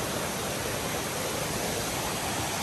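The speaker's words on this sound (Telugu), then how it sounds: "ఇక్కడ కూడా చిన్న వాటర్ ఫాల్స్ ఇక్కడ ఉంది" A small waterfall at Amruthadhara falls in Maredumilli roars in a steady, dense rush of falling water, loud and continuous throughout with no voices over it.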